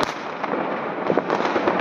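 New Year's fireworks and firecrackers go off in Worms, Germany, a steady crackling barrage of distant pops with a few louder bursts, no talking.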